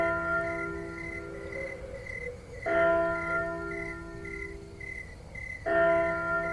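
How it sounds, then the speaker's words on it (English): Looped sound effects of church bells ring in repeating cycles over a steady bed of chirping crickets and soft wind, played in a pub setting. Each bell peal starts fresh every few seconds without any talking. "So the bells run out, but the crickets and the wind carry on going."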